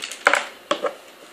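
A pyraminx puzzle being scrambled by hand: quick plastic clicks and clacks, a pair of sharp twists followed by a couple more after a short pause, close and crisp.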